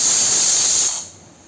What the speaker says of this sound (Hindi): तो ये हमारा कुकर सीटी दे चुका है।